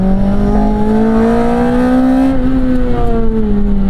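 A 2006 Lotus Elise, a light mid-engine sports car, revving hard under acceleration, its engine note loud and close with a steady rising whine that climbs and dips through gear changes, with no talk over it.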